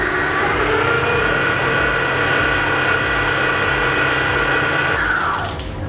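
Airbot Norvia stand mixer running at low speed, mixing banana cake batter with a steady motor whine and churning, close and continuous, shifting pitch near the end.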